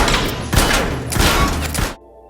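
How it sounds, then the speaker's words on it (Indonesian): Gunshots at shooting practice in a film, loud rapid bursts of fire in two or three quick volleys, close and harsh, cutting off abruptly into near silence. "Brain juga tidak lupa mendatangi latihan tembak, agar dirinya bisa menembak dengan baik dan benar."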